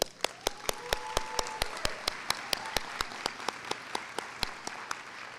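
Scattered audience applause in a large hall at a university commencement ceremony, individual sharp claps standing out over a softer background of clapping, moderately distant.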